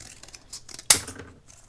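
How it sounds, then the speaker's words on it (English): A blade of scissors snips through thin craft timber strips, one sharp crisp cut standing out clearly above faint background rustle and handling noise. "Just cut them with scissors."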